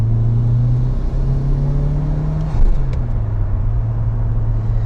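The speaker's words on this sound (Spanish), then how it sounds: "Si le pisas, el turbo sopla y hace un ruido precioso." A Mitsubishi Lancer Evo 6 engine drones loud and close as it pulls under acceleration, the deep steady rumble shifting pitch midway as the turbo blows, with no voices.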